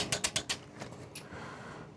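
A torque wrench on a 2019 Honda Super Cub C125 being adjusted gives a quick run of four or five crisp mechanical clicks, then a few fainter ticks in a quiet garage.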